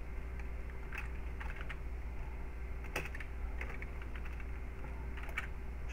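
Typing on a computer keyboard, bursts of quick clicks and clacks in uneven clusters, close and fairly quiet over a low steady hum.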